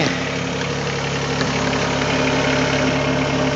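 A Mahindra eMax20s HST compact tractor engine runs steadily close by, with a constant droning, slightly vibrating hum while the backhoe is raised.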